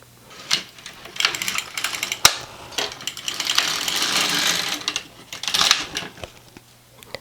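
LK150 knitting machine carriage sliding across plain rows, a series of clattering, ratcheting mechanical passes with sharp clicks, near and fairly loud, no talking.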